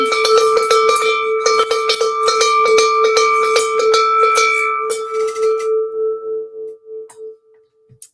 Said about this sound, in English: Let's ring this bell again.